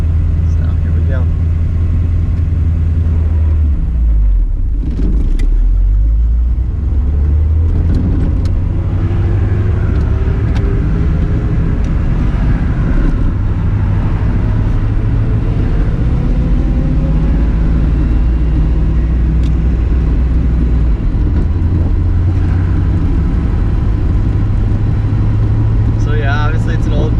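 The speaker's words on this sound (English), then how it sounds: "we are in the 63 Stingray convertible, and now we'll try and drive it." A 1963 Corvette Stingray convertible's engine runs steadily while driving, a loud low rumble with rising and falling revs through clutch and gear changes, close and continuous throughout.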